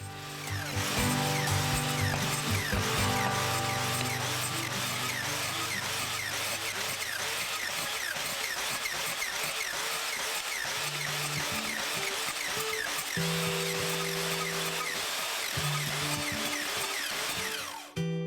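A power saw runs continuously for the whole stretch, its motor whining steadily as it cuts wood pieces to length, with pitch shifts as each cut starts and ends.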